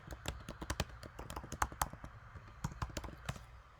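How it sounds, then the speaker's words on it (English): Fingers typing on a computer keyboard, an uneven run of quiet, close clicky keystrokes with short pauses between bursts and no voices. "When you type in purple for business"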